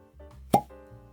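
A natural cork stopper pops out of a bottle of Homeplus 흑우 whisky, one sharp close plop standing alone over a faint low background hum.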